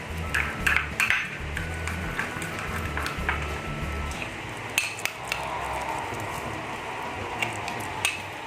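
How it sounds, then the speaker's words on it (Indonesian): A spoon stirs mashed white rice mixed with saliva in a small container, giving repeated soft scraping and light clinking taps, close and fairly steady throughout. "Setelah itu kita aduk sampai merata."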